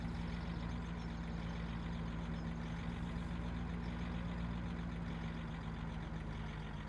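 Tractor engine in Farming Simulator 17 on the Abandoned Forest map, a faint steady low rumble with a constant droning hum and no change in pitch, heard alone.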